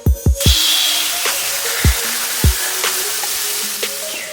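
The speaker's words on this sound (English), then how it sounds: "Stuffed turkey burgers. I'm about to throw these things on a pan and you're gonna hear it." Jalapeño and cheese stuffed turkey burgers sizzling in a pan, a steady hiss of frying with a few sharp low thumps and clatters from the pan at the start and scattered later.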